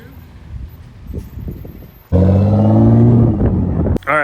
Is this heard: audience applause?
no